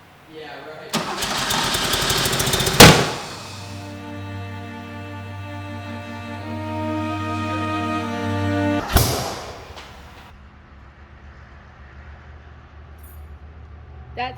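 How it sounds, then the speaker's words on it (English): A barn-find Porsche 911 engine cranks and fires up with a fresh fuel filter, then settles into a steady idle punctuated by two sharp, loud backfire bangs, one early and one later, with the engine running on quietly afterward. "It was a backfire."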